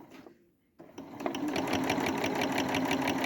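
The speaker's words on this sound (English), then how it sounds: "We're going to listen to how it sews." A Janome DC 2010 computerized sewing machine starts up after a brief quiet pause, then runs steadily in a rapid, even needle rhythm, loud and close.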